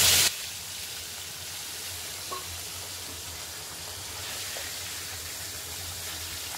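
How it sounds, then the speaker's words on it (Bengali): Pieces of pomfret fish fry in hot oil with a continuous, even sizzle that holds steady throughout, close by and with no one talking. "তেল গরম হয়ে গেছে, তাতে একে একে মাছ ভাজাগুলো দিয়ে দিলাম"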